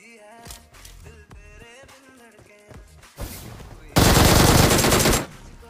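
A gun fires in a PUBG-style battle royale video game: a loud, dense burst of automatic shots late in the clip follows softer game sounds and music-like tones.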